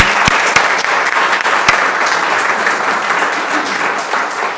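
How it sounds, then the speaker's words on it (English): Loud, steady applause from the audience at a school board of education meeting, dense clapping throughout with a few sharp individual claps standing out near the start. "We do one more round of applause for Jeff."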